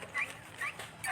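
A dog gives short repeated whimpering yelps, three or four brief cries spaced evenly over about a second, fairly faint and close.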